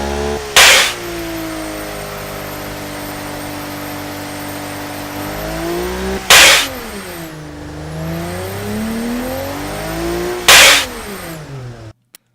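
A turbocharged 2-litre car engine in the BeamNG.drive driving game revs hard three times, each sharp burst sweeping upward and falling back to a steady, droning idle, loud and close with no talking.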